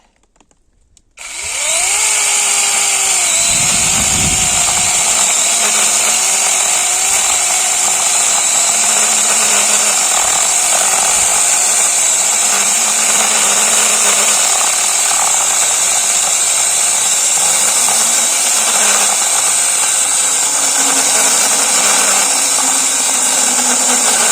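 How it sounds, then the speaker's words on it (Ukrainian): A ProCraft PKA 44 cordless garden chainsaw starts up and runs steadily with a loud, high whine, its pitch dipping slightly as it bites into wood, continuous and close. "не забуваємо, що це пилка для саду, а не для того, як оце Діма робить."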